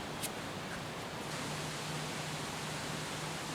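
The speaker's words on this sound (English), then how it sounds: "The wind is blowing a little bit today." Steady, low-level broadband wind noise outdoors on an RV roof during resealing, a constant hiss and rush with no gusts standing out and no talking.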